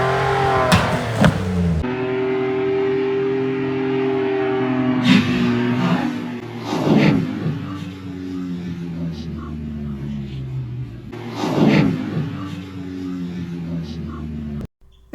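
A truck pulling a tire on a kinetic recovery rope, its engine revving in repeated surges over a steady idle drone. Each pull brings a burst of scraping and creaking, with people talking in the background.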